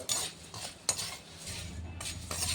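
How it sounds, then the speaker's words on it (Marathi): Puffed rice being roasted in an already hot wok for chivda, stirred with a metal spoon: scraping, clinking strokes against the pan over a soft rustling hiss, close and moderately quiet, no talking. "मी याला छान असं भाजून घेते मस्त खमक."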